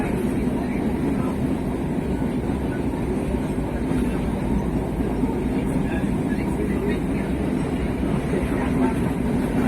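Interior of a moving train in Sri Lanka, a continuous low rumble and rattle of the carriage holding steady throughout, with faint voices in the background.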